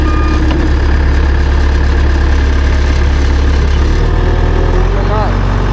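John Deere 850J dozer engine running while the machine moves in reverse: a loud, close, heavy low rumble that holds steady and shifts pitch slightly partway through.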